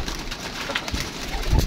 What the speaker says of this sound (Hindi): ये देखें वो बैठी हुई है जी कबूतरी